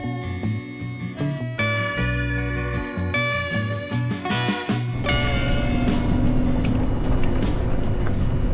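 A car climbs mountain roads in the Lee Vining area near Mono Lake. A close, continuous engine and road drone starts with a humming, tonal quality, then thickens into a rougher, louder roar.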